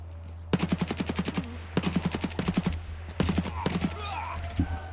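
Automatic gunfire in Escape From Tarkov 12.8 comes in three sharp, rapid bursts of close shots separated by brief pauses, loud over a low steady hum.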